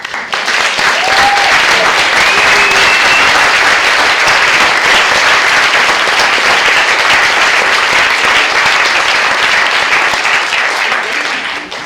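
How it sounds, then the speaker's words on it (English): A school recitation evening audience gives another round of applause, sustained loud clapping from a large crowd that holds steady for the whole stretch and tapers only slightly at the end. "we give them all another round of applause"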